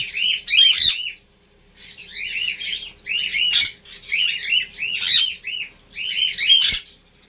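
Pet cockatiel parrots chirp close by in loud, bright bursts of rapid, warbling calls. Four or five phrases repeat with short pauses between them over a faint background hum.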